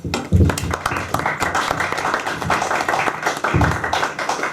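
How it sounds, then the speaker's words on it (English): An audience claps for a second-year UCL mechanical engineering student introduced as a candidate at a 2012 chairmanship debate. The dense, steady applause runs the whole time, with a louder burst near the start and again toward the end. "Can we have a round of applause?"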